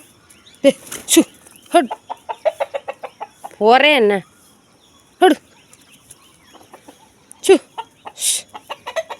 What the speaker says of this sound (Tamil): அவள் தெருவில் உள்ள கோழியெல்லாம் கூட்டு வந்து இங்கே அரிசி பொறுக்க விடுது.